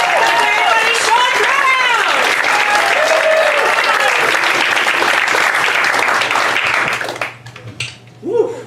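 Loud stand-up comedy show audience applause with cheering and whooping, sustained for several seconds, then dropping off abruptly as a voice begins speaking.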